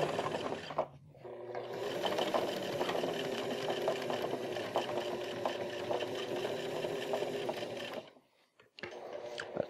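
A sewing machine runs steadily for about seven seconds, topstitching a waxed canvas backpack with quilting on the back piece, pausing briefly near the start and stopping just before the end, then restarting.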